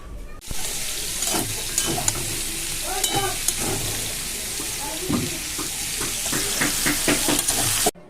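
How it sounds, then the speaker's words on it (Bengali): Soybean chunks and potato frying in a home pan, a steady bright sizzle running throughout with intermittent stirring scrapes and clinks, close and fairly loud, with a short break near the start. "একপারে পাঁচমিশালি ভাজা আর একপারে সোয়াবিন আলুটা ভেজে নিচ্ছি"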